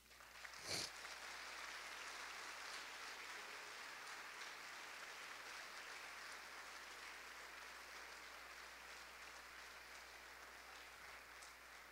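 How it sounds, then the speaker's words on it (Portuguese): Steady applause from a church congregation during a sermon, a dense continuous patter of clapping heard from a distance, even in loudness throughout. "Aplauda o Senhor Jesus."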